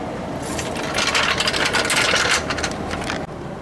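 A socket wrench jacks up a spring to line it up with a hole during a water pump replacement on a Chevrolet Impala SS, giving close, steady mechanical rattling and scraping for about three seconds, with no talk.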